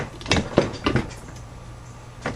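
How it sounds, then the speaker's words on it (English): Spring compressor tool being worked on a car strut spring from a 2009 Kia Rondo, giving a few short metallic clicks and ratcheting knocks in quick succession, close by. "your spring compression tool, making sure that"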